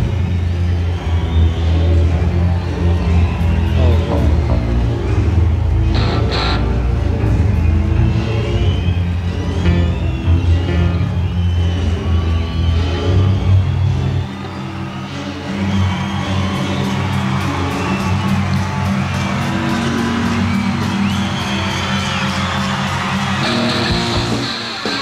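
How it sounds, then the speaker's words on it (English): An arena crowd awaiting Aerosmith in Boston in 1978 rumbles with heavy low stomping and cheering, a sustained loud roar that thins after mid-way as whoops and shouts rise over continuing thumps. "You can hear the crowd stomping away."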